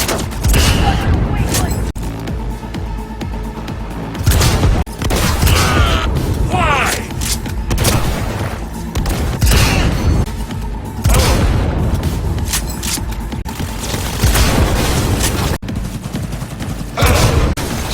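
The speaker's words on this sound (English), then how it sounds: "Under heavy fire!" Cyberpunk 2077 combat: dense, continuous gunfire and booming explosions fill a long stretch, loud and close, with mechanical creaks and voices shouting through the chaos.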